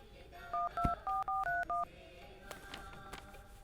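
Six short, even touch-tone beeps sound as a phone number is dialed, followed by a faint thump and quiet room noise.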